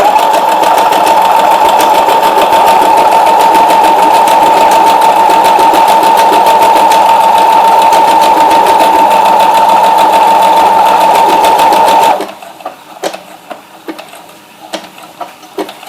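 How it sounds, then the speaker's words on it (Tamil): A Brother FS-series sewing machine stitching letter embroidery, a loud, steady, fast mechanical whir with a rapid rhythmic chatter that runs for about twelve seconds, then stops abruptly, leaving a few faint clicks. "ஸோ இந்த த்ரெட்டை லைட்டா கையில பிடிச்சிட்டு ஸ்டிச் போட ஸ்டார்ட் பண்றேன்."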